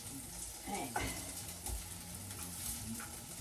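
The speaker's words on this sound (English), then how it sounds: "those are browning really nicely in the frying pan" Potato cakes sizzle and crackle in a hot frying pan, a steady frying hiss with a few soft scraping sounds, close up.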